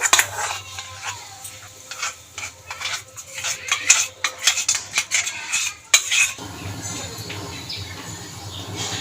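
A spoon knocks and scrapes against a pot of chicken soup as rice paste goes in, with busy, close clinks and clatter that settle into a steady bubbling hiss toward the end.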